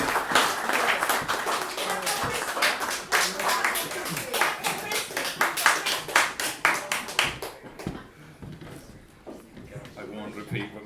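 Audience applauding at a book launch in Limerick for Christy O'Donnell, a dense burst of clapping that fades after about seven seconds, leaving quieter room sound with scattered claps and faint voices.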